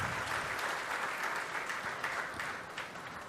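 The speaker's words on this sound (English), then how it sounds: "let's have a huge round of applause once again for Mr." Sustained dense applause from a large audience fills a hall at the Bajaj Dominar motorcycle launch event, steady and even with slight fading toward the end and no talk over it.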